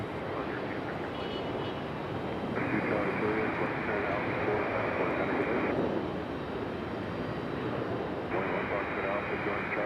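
A Southwest airliner departs Raleigh Durham International airport, its jet engine roar steady and broad for the whole stretch, with a faint radio tone layered over it at times.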